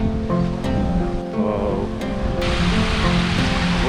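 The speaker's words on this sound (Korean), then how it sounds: "물줄기가 굉장히 시원하네" Cheonjiyeon waterfall on Jeju rushes in a loud, steady roar of falling water that fills the whole clip, with a person's brief exclamation over it.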